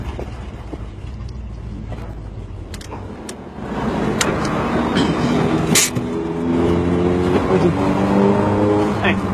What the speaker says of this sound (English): I know, I hear the exhaust.